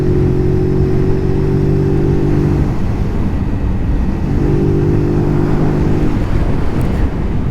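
A Zontes ZT125-U1 125cc motorcycle accelerates on the road, its engine rising loud and close through two distinct throttle pulls, each climbing in pitch before easing off, over constant wind rush.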